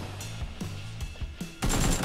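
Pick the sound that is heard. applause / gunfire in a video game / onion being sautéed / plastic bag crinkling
gunfire in a video game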